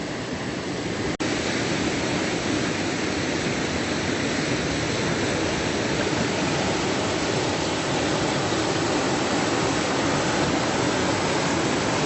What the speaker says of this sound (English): Raging is the best way to describe this water today.